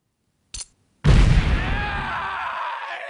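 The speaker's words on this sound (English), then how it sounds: "I will be chucking a grenade in" A grenade goes off inside a building in Delta Force 2: a short pop, then a heavy close boom that rolls into a long, loud rumbling decay lasting a couple of seconds.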